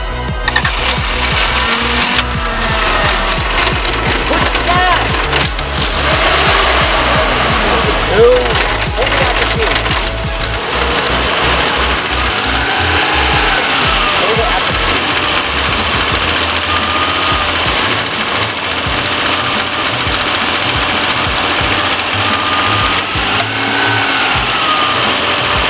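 A car engine running loudly and steadily during a Seafoam fuel-system treatment, with rough, uneven idle pulses early on and continuous mechanical noise throughout, while people talk over it.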